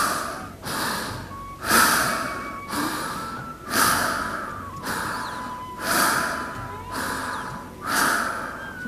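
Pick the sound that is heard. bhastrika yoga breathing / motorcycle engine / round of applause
bhastrika yoga breathing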